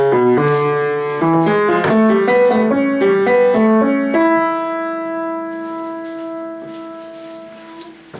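Solo piano plays a song's introduction: a quick run of single notes and chords rising and falling, then a final note held out and left ringing as it fades, clear and close with no voice.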